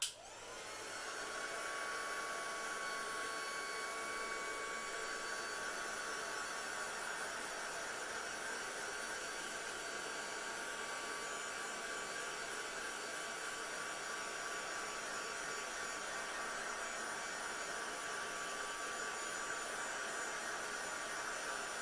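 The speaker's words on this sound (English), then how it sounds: "Let's pop the heat gun on that just to completely dry it off." A heat gun drying embossing paste blows with a steady, loud whooshing roar that starts within the first second and holds evenly for about twenty seconds. No voices are heard.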